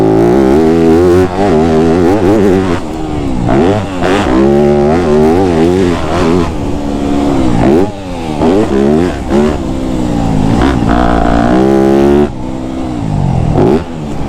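A Yamaha YZ250F dirt bike engine runs very loud and close, revving repeatedly up and down with sharp throttle blips and rising, falling tones throughout, with no talking.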